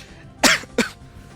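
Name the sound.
coughing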